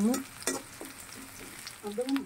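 Onion and garlic stir-frying in a pan, crackling sizzle broken by several close spatula scrapes and tosses, loud and near, with no talk.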